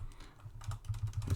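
Close, quiet typing on a computer keyboard during a programming lecture: a quick, uneven patter of key clicks with no talk.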